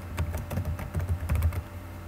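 Rapid computer keyboard typing, a steady run of close, crisp key clicks with a slight rhythmic unevenness, recorded alone without any voices.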